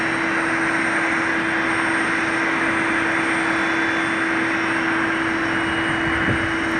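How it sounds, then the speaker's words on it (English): Airbus A320 airliner on short final approach, a loud, steady broadband engine roar with a constant low hum running throughout, heard from the ground near the runway with no voices. "Now we got a Legion Air A320 from Appleton, Wisconsin, on short final."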